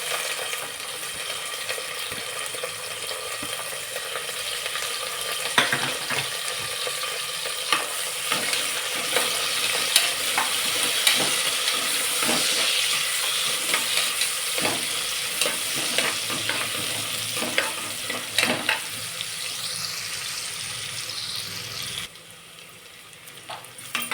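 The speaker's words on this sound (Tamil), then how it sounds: "வெங்காயம் நல்லா வதங்கிடுச்சு." Chopped onions fry and get stirred in a pan while cooking goat intestine curry, a steady close sizzle running throughout with scraping stirs and occasional clinks of the spoon.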